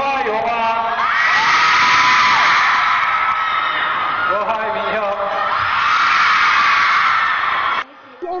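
Fans of a Korean band cheer and scream at a crowded mall appearance, a loud sustained roar of high shrieks and whoops that swells and dips, with talk mixed in, cutting off sharply near the end.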